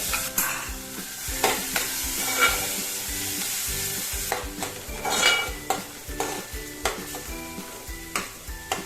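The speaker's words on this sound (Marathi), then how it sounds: "तर कांदा आपला परतून झालाय आणि तो मऊ देखील झालाय" Chopped onions sauté in butter and oil for street-style pav bhaji, a close sizzle punctuated by rhythmic scraping and tapping spatula strokes against the pan, roughly twice a second, with no one speaking.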